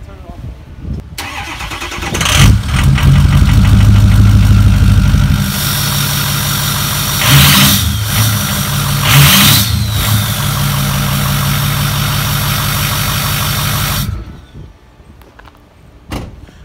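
A Ford pickup truck with a turbo starts up and idles loudly close to the exhaust, a steady mid-pitched rumble with two brief revving swells before the engine shuts off.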